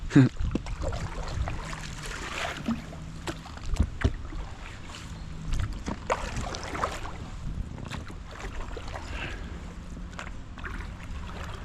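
Irregular knocks and splashes of oars rowing a boat through shallow water, with faint wind in the background and a slow, uneven rowing rhythm.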